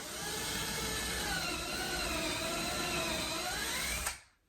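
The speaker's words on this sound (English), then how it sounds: "You can tell there you're drilling into the wood." A power drill fitted with a 1/8 inch bit bores into a wooden wall stud, a steady close whine that holds for about four seconds before cutting off.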